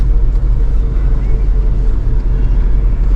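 A salt spreader truck runs with its spinner set to 10 and its auger to 8, giving a loud, close, continuous low engine and machinery rumble that holds steady throughout.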